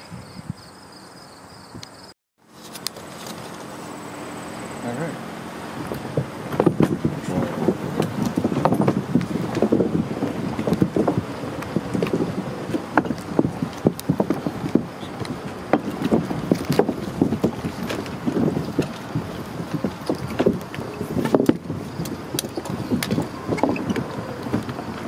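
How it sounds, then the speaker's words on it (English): A vehicle rolls slowly over an old wooden train bridge built in 1936, giving a steady stream of irregular knocks and clatters from the planks over a rumbling drive, with some wind noise throughout. "let's jump in the vehicle and let's drive over it"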